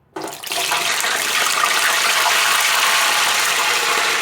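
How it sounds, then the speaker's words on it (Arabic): Stuffed chicken pieces drop into hot oil in a deep fryer, setting off a sudden loud, steady sizzle that holds for several seconds with no talking. "انا عندي القلايه اللي هي بتاعه الزيت انتوا عارفين طبعا، فانا هنزل بالفراخ بتاعتي اهو"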